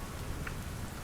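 Steady rain falls in an even, close hiss with soft scattered patter, and no voices are heard.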